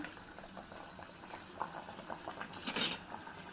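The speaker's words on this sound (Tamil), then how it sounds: "இப்படி எடுத்து போட்டு நீங்கள் சுட்டுக்கலாம்" Snack dough sizzling in hot oil, a steady bubbling hiss with soft crackles and brief spatter bursts, close and moderately quiet throughout.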